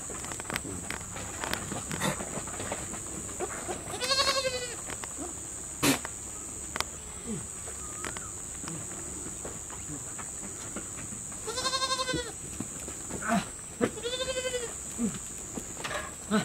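Several goats bleat in separate bursts as a herd is driven toward a Nepali forest in the morning, with footsteps and rustling between calls and a steady high insect drone throughout.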